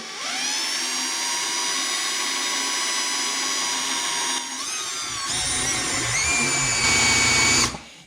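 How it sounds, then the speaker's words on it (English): Power drill with an 11/32 bit boring a hole into a metal machine joint for a grease zerk: a close, steady high whine that shifts pitch partway through as the bit bites, then spins down at the end. "drill this as evenly as we can and as dead center as we can"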